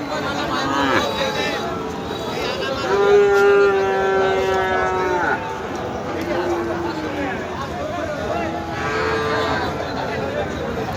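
Local cattle moo at the Betaga cow market in Bagerhat, with a long, loud low bellow near the middle and fainter calls later, over a constant murmur of people talking and trading.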